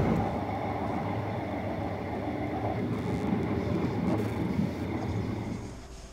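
A GWR sleeper train rumbles along steadily with a low, continuous rolling roar and faint rattling, heard from inside at the back of the train, fading slightly at the end.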